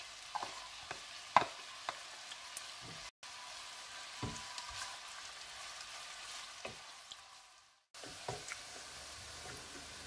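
Garlic and other ingredients frying together in a pan for spaghetti carbonara, a steady soft sizzle with occasional stirring clicks and pops, close, with two brief dropouts and no talking.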